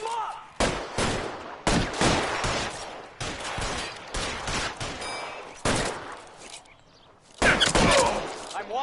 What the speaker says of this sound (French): Eh ben quelle fusillade dans le carton